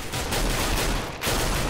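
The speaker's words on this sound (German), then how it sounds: "Richtig starke Schüsse von Sonic." Dense gunfire in a Counter-Strike match on the de_inferno map: rapid bursts of shots blend into a loud, continuous crackle, with a brief dip before the firing resumes.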